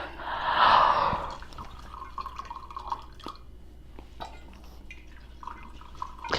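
Liquor glugs and drips as it is poured into shot glasses, with a louder pour burst near the start and then small trickles and splashes, fairly close by.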